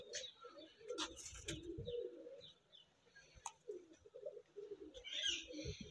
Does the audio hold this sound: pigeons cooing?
yes